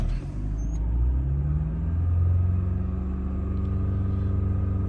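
A 2008-2012 Chevrolet Malibu engine idles high in park with a low, constant hum and rumble, running close by, its pitch slightly raised and unwavering.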